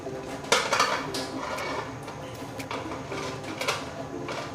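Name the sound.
covering a cooking pot with its lid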